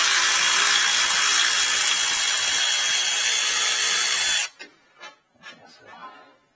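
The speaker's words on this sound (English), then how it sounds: "Sometimes I like my power tools just because it makes things a little bit faster." A power tool whirs loudly and steadily for about four and a half seconds while removing bolts from the lower control arm of a Chevy Cobalt, then cuts off abruptly, leaving a few faint clicks and clinks.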